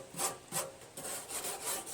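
A Black & Decker 2.5 amp oscillating sander smoothing rust on a Craftsman LT1000 lawn tractor, giving rhythmic rasping strokes, roughly four quick passes in two seconds, close and fairly quiet.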